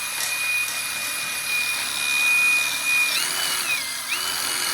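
A drill spins a long flap wheel inside the front axle pivot of a Kubota ZD1211 zero-turn mower, giving a steady, close, high-pitched whine that dips in pitch briefly toward the end as it loads up.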